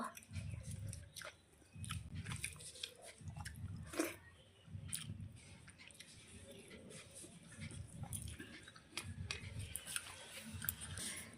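Someone chews egg mixed with gravy close to the mic, making a steady, rhythmic series of soft, moist bites repeating about every second, with faint clicks and small crunches scattered between them.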